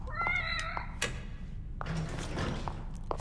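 A cat in The Evil Within gives a few short meows with bright harmonics over a steady low game hum, followed by softer rustling and thudding, with no talk.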